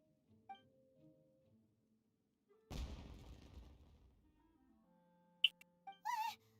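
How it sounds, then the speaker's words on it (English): Fireworks from Genshin Impact burst in a loud crackling explosion that rolls on for about two seconds, set between quiet game music and a few sharp effect sounds. "Was that an explosion? It sounded like fireworks."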